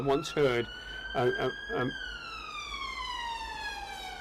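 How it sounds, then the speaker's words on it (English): An ambulance siren wails at a distance, its tone holding and then sliding down, while someone speaks briefly over the start. "sorry, just an ambulance."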